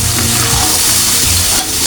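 Dried red chili powder, one spoonful, frying in hot oil in a pan for an egg and eggplant curry, giving a steady loud sizzle with stirring scrapes throughout and no talk.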